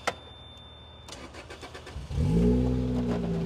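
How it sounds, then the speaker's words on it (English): A Lotus Elise engine cranks with a short whirring starter, then catches and settles into a loud, steady idle close by. "let's fire it up here."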